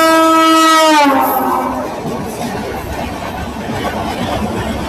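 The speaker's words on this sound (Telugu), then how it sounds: "టాటానగర్ ఎర్నాకుళం ట్రైన్ వస్తుందండి." A passenger train, the Tatanagar–Ernakulam express, passes at a railway crossing: a loud horn blast opens the clip, then the rushing rumble of the passing train carries on steadily to the end.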